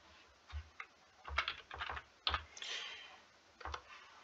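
A search being typed on a computer keyboard, a few quiet close key taps in short clusters with brief pauses, no talking.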